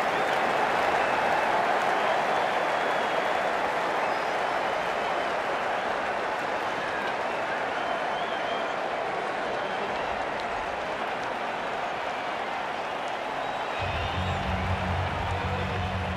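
Crowd applause and cheering after a catch in a cricket video game, a steady wash of clapping filling the whole stretch without letup.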